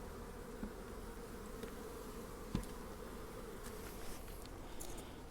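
Honey bees buzz around nucleus colony frames of capped brood and honey, a soft continuous hum close by, broken by a few faint clicks and taps.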